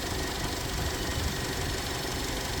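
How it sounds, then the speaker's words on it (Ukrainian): A Skoda Kodiaq engine runs at a steady idle, a constant low rumble with a faint knocking texture and no voices. "Звук роботи двигуна."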